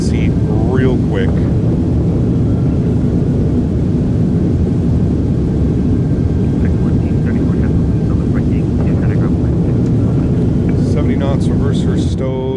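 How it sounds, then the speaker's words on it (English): Thrust reversers on an iniBuilds A300F roar during landing rollout in a flight simulator, a loud sustained rumble with brief voices speaking over it. "Reversers are out. Decelerating."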